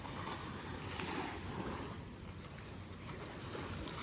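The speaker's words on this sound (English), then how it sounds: "But the wave's strong, man." Ocean waves wash in steadily at a beach in Runaway Bay, Jamaica, a broad continuous rush of surf with wind noise, moderately loud and close, with no voices.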